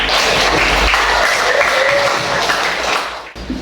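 Students in a classroom applaud together in a steady, dense wash of clapping that holds at an even level for several seconds before tapering slightly.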